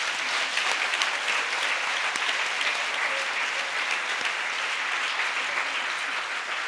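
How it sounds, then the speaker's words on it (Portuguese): Dense, steady applause from a large church congregation honoring the men, a continuous wash of clapping that holds evenly throughout at close range with no voices standing out. "Bate uma salva de palmas"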